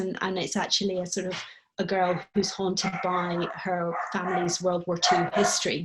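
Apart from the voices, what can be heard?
dog barking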